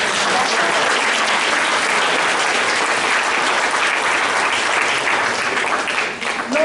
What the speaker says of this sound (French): On peut applaudir Mireille.